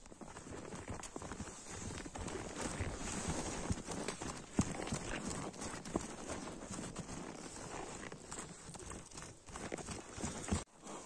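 A horse is led along, its hooves clip-clopping in a steady, close rhythm for the whole stretch over a busy outdoor background.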